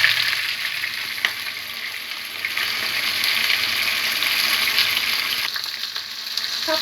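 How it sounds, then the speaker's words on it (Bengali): A raw ingredient fries in a pan until it turns reddish, giving a steady, close, loud sizzle and hiss throughout, with a few brief stirring scrapes and no voices. "এটা কাঁচা অবস্থাতেই আমি এটাকে লাল লাল করে ভেজে নিব"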